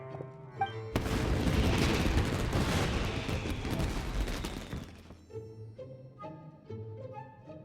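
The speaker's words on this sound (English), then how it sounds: "Yoimiya, this is turning into a bit of a fireworks display." A dense burst of crackling video game fireworks erupts suddenly and rumbles for several seconds, then gives way to soft tonal game music.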